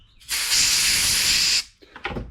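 Spray can blasting into the carburetor intake of a Powersmart push mower that won't crank: one loud, steady hissing burst lasting over a second, then a couple of small rustling handling noises.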